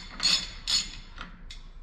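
A large 3¼-inch socket twisting a hub nut off a Dodge Ram 5500 tow truck, producing a few close metallic ratcheting clicks and scrapes in an uneven rhythm.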